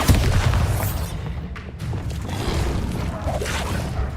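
A Bombarda spell blast from the Hogwarts Legacy video game, a loud, rumbling boom with a thudding low end that starts hard and sustains as a dense, noisy roar across the whole stretch.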